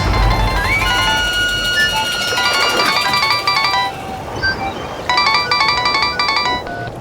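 Mobile phone ringtone playing a bright repeating electronic melody in bursts, fairly loud and close, pausing briefly before resuming, with no talk over it.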